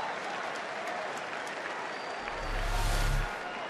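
A baseball crowd at an Arizona–Atlanta game breaks into applause after a hustling runner is thrown out at first, building from a steady stadium murmur into a swell of clapping and cheers that peaks and then fades.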